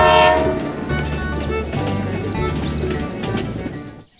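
A toy train on a DIY model railway setup with a small hydraulic bridge rolls past in a loud, continuous rumble of clattering wheels, with sharp clicks and brief tonal whistles over it, cutting off abruptly at the end.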